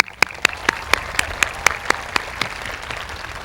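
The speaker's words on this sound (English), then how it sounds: "Let's give them a round of applause." Applause from the audience at a Melrose High School class of 2015 graduation, heard as sharp, evenly spaced claps in a steady rhythm over a soft background wash, close and fairly loud with no talking.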